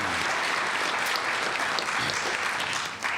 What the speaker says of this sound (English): I know that you're clapping for yourselves